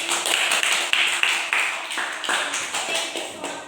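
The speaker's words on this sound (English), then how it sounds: "You are doing a great job, so give applause for us." Applause in a classroom at the end of a lesson: a scattered round of hand claps, fairly close and moderately loud, with uneven rhythm that thins out toward the end.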